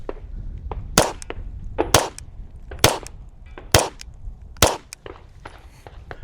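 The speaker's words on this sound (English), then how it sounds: "we threw the CMMG can 36K on 2 here, and we are going to see if this bad boy cycles." Glock pistol firing 147 grain synthetic rounds through a CMMG suppressor, five sharp muffled shots roughly a second apart with fainter rattles between, fairly close.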